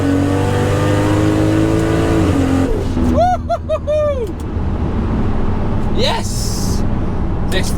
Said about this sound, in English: listen to what this Mark IV sounds like